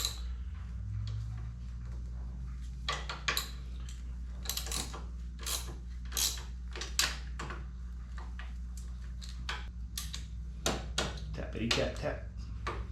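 Socket wrench tightening highway peg bolts on a motorcycle, a run of close, crisp metallic clicks and taps in an irregular rhythm, with someone talking in between.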